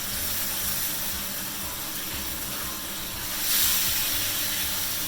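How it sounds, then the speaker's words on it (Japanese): A salted hamburger patty steam-fries in a covered pan, giving a soft, steady hiss and sizzle throughout, with a brief louder burst of steam near the end. "蒸し焼きしてるからね。"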